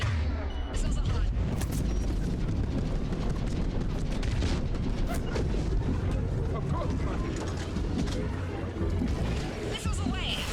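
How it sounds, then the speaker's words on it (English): Missile launches and explosions in the video game Mass Effect 3 give a dense, continuous run of mechanical clanks and booming blasts, loud throughout, with a voice talking over the action. "Missiles are hot."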